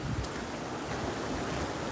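Wind blows on a windy day, a steady broadband roar buffeting the microphone for about two seconds, fairly loud with no other sounds or talking.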